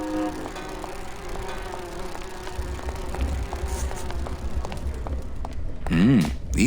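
Bees buzz in Grim Fandango Remastered, a steady droning hum under ambient game sound, swelling louder toward the end.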